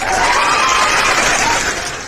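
Loud, dense applause with cheering from a crowd at a televised French-language debate panel, a steady wash of many hands that tapers slightly toward the end.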